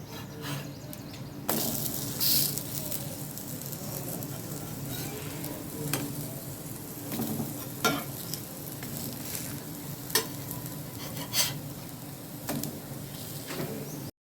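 Food for a high-protein weight-loss recipe fries over medium heat with a continuous close sizzle, broken by occasional scraping knocks as pieces are flipped and pressed in the pan.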